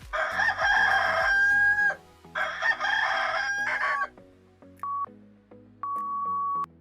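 A rooster crows twice in long, loud, strained calls, followed by shorter clucking notes and brief tonal beeps, close and clear with no talking.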